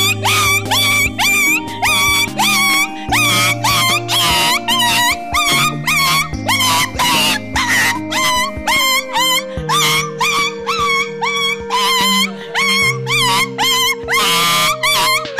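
A person vocally imitates a big, hefty dog, barking and whimpering in loud, repeated yelps against a dense musical background.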